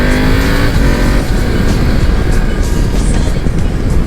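A BMW F750 GS motorcycle accelerating hard along a coastal road near Lisbon, with a quickshifter gear change cutting in mid-pull, the engine roaring loud and continuous with heavy wind rush close to the rider.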